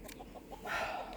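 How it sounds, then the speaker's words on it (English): A rooster crowing on a farm during sheep shearing, a single hoarse call rising out of background noise, moderately distant and faint. "Oh, that's one of the roosters."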